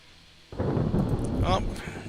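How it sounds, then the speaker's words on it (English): A thunderstorm in the naval strategy game Ultimate Admiral Dreadnoughts breaks in as a sudden loud, deep rumble about half a second in and keeps rolling heavily to the end. "Oh, just in time for the storm."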